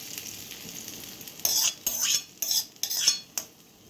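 Hot oil crackles and sizzles in several sharp bursts as spices hit the pan for rava dhokla tempering, with a metal utensil clinking against it.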